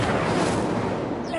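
An Incendio fire spell is cast in a video game, giving a short, loud, roaring burst of flame that fills the moment.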